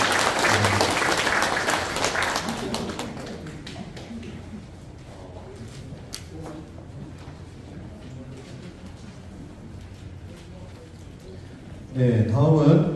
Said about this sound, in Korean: 네, 박수 한번 드리겠습니다.